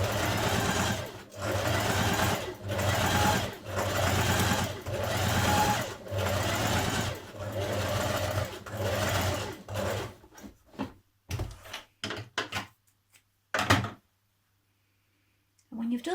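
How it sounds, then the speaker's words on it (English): A domestic sewing machine runs a trouser seam in about eight regular bursts of rapid stitching, close and loud, then stops, leaving a few short clicks and handling noises before near silence. "you're going to stitch 6 millimeters away from this edge all the way down"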